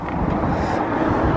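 Outdoor wind buffets the microphone in a continuous low, rough rumble that stays loud and steady throughout, with no voices.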